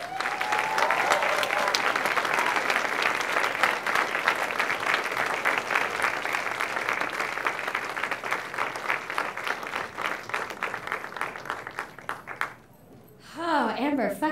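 An audience at a speaker series at the Indian Summer Festival in Vancouver breaks into sustained, dense applause that fills the room, fading near the end as a voice begins speaking.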